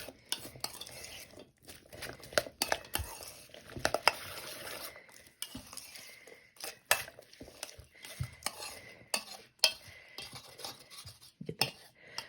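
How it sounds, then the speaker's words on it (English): Mango salsa being tossed with its dressing in a bowl, with a spoon clinking and scraping against the sides in irregular, close strokes. "We want to mix that dressing all around, make sure it gets on everything."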